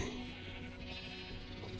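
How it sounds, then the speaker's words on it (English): Sheep bleat in a farming video game, a clear close animal call sustained over a steady bed of game ambience, with no talk over it. "So, sheep."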